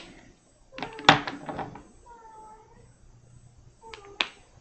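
A cat meows a few times nearby, short and fairly quiet, mixed with light clicks and handling noises in a quiet room.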